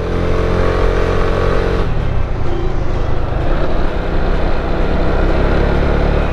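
Piaggio MP3 500 LT Sport three-wheel scooter riding a curvy road, with a steady loud engine drone and wind rush throughout, the engine note shifting slightly partway through.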